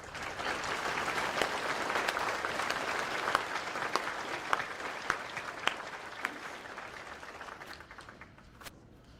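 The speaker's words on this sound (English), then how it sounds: "Let's give our families a huge round of applause right now." Sustained applause from a large audience at a high school commencement ceremony, with sharper individual claps popping out of the dense clapping before it begins to fade near the end.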